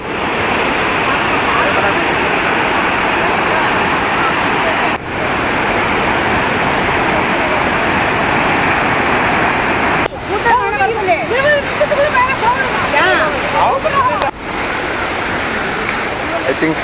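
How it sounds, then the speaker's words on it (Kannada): Ripple Waterfall in Munnar, Kerala, a loud, steady roar of falling water heard up close, with voices faintly breaking through in the later part. "ನೋಡಿ ಫ್ರೆಂಡ್ಸ್, ಇದೇ ರಿಪ್ಪಲ್ ವಾಟರ್ ಫಾಲ್ಸ್."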